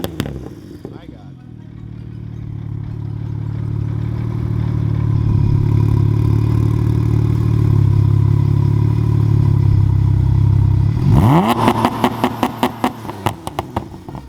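A BMW 335i with a single exit exhaust drones at a sustained high rev for several seconds, then drops into a rapid popping, crackling burble; excited voices are heard in the background.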